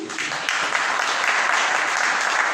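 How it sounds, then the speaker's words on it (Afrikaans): A church congregation applauding a pastor at a men's day gathering on Buffelshoek, loud sustained clapping from many hands that continues steadily throughout. "Pastor Dirk, kom so van 'n ander klap asseblief"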